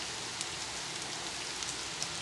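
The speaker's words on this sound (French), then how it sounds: "Ça fait plus de 2 heures qu'il pleut comme ça, aussi fort, sans arrêt." Heavy summer rain pours down without pause, filling the air with a dense, even hiss of drops hitting surfaces up close.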